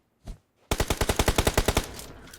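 A single shot, then a rapid burst of about a dozen evenly spaced automatic gunshots in the PUBG Mobile game, loud and close, tapering off at the end.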